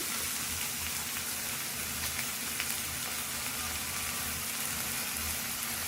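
Prawns frying with onions in oil in a pan, a steady close hissing sizzle with no pauses or talk.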